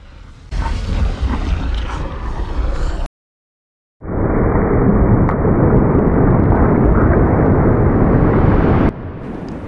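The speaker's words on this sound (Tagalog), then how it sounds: "Tama, ito ay tunog ng pagputok ng bulkan." Volcanic eruption: loud, sustained rumbling roar with a deep booming low end, broken by a second of silence before a second, even heavier continuous roar that drops slightly at the end.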